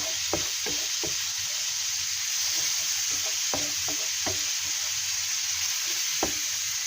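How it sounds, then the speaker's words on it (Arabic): Half a kilo of shrimp sautéing in a frying pan gives a steady, close sizzle, broken by scattered knocks and stirring scrapes, with no talk. "هاد الكروفيت غادي نشحرو"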